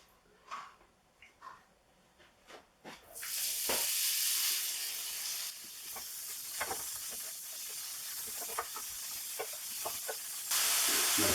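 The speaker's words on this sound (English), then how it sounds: "we're going to fry the bacon until it's crisp" Bacon frying in olive oil in a hot pan, a loud steady sizzle and hiss that bursts in suddenly after a few soft clatters and keeps going, crackling and popping throughout with no talk.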